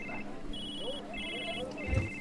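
Several telephones ring in the Food Truck video game, repeated electronic bell-like ring tones in bursts over a busy background murmur of crowd and kitchen ambience, with a low thump near the end.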